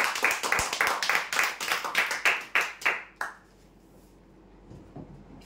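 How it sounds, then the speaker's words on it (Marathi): Audience at a lucky draw prize announcement gives a burst of rhythmic hand clapping, a few distinct loud claps in quick succession that stop after about three seconds, leaving quiet room tone. "जोरदार टाळ्या देण्यासाठी।"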